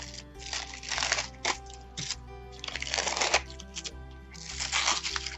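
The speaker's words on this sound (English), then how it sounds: "Okay, so now what you're gonna do is peel off the top." Crinkly peeling and crackling of a plastic backing sheet pulled off an adhesive sheet, in several uneven bursts close by, with brief pauses between pulls.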